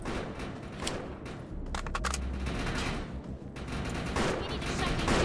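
Gunfire in the video game Defiance, rapid automatic bursts and overlapping shots in a sustained firefight, moderately loud, with a player's voice talking over it in places.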